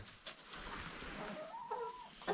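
A rooster and hens cluck softly in a farmyard coop, with faint scattered clucks and a short low call over quiet background noise.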